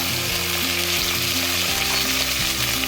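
Tomatoes and chilies sauté in a hot pan with a loud, close, steady sizzle, with stirring scrapes running through it and no talking.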